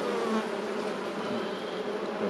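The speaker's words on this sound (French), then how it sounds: "C'est bien d'avoir des réserves, mais c'est aussi bien d'avoir des abeilles." Honeybees buzzing at an open beehive during an autumn colony inspection, a steady, dense hum of many insects close by, continuous and even with no talk over it.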